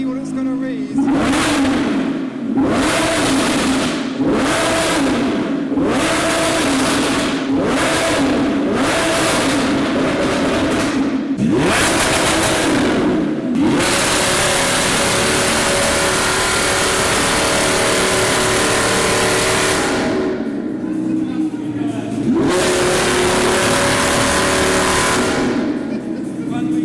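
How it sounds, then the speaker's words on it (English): An Audi R8 at a track event blips its engine in a run of sharp, loud revs, then holds a long sustained howl before a final burst, with voices talking faintly underneath. "Now we've got the R8 doing some revs on the decibel-o-meter."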